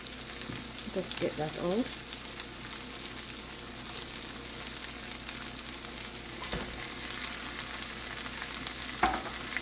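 Canned corned beef sautéing with garlic paste in a pan gives a steady, loud sizzle and frying crackle with occasional scraping stirs, and a brief spoken remark early on.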